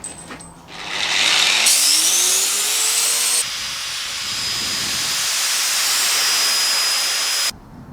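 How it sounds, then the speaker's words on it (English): A power sander running on the edges of a wooden paper-making mould whirs up to a loud, steady high hiss, shifts pitch partway through, then cuts off abruptly near the end. "Then I'm going to use a sander to sand around the edges."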